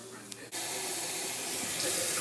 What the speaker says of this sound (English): First, you fill it with water.